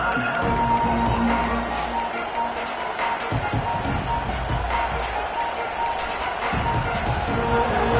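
Stadium crowd roaring and cheering at a football game, a loud sustained wash of voices with a broadcast commentator talking over it throughout.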